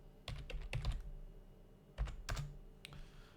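Fingers tap out a prompt on a computer keyboard at close range, producing quick uneven bursts of clicking keystrokes with a brief pause between clusters.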